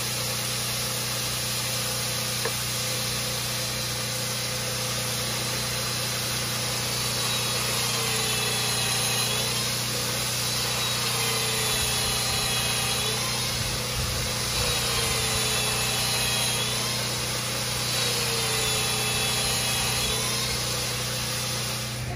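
Power drilling to bore out a hand-forged gun barrel in a workshop, a continuous motor whine with steady hum and repeated cutting sweeps as the bit advances, heard alone without talk.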